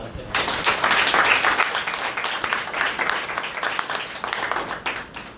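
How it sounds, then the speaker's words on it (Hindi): A congregation at a prayer house church in Ludhiana breaks into loud, dense clapping that carries on for several seconds, with voices mixed in beneath the applause. "ताली बजाओ, धन्यवाद करें।"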